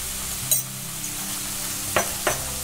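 Tomato puree and taco seasoning stirred in a pan with onion for vegetarian tacos: a soft continuous sizzle with a few brief scraping clinks of a spoon against the pan.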